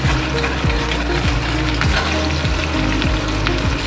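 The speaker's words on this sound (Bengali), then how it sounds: "হালকা করে একটু ভেজে নেব" Green chilies and ginger fry lightly in oil for homemade chilli chicken, giving a steady, close sizzle with repeated scraping strokes of a spatula throughout.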